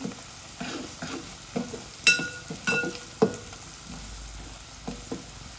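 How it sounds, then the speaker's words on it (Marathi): Onion sizzles in hot tempering oil with turmeric while a spoon stirs it, with a steady frying hiss broken by repeated scraping clinks against the pan, close and alone. "कांदा आहे तो कुरकुरीत होईपर्यंत फोडणीमध्ये असं ढवळून घ्यायचा आहे"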